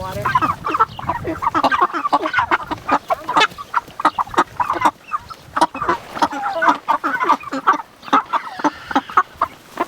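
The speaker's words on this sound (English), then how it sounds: "Those are some big chickens in there." Chickens cluck and squawk repeatedly in a busy, overlapping chorus, close by and fairly loud, with short bursts throughout.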